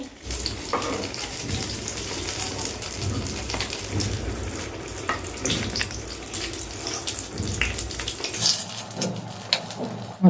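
Stuffed eggplants frying in hot oil give a loud, crackling, spattering sizzle with irregular pops and bursts throughout, growing briefly busier near the end before cutting off.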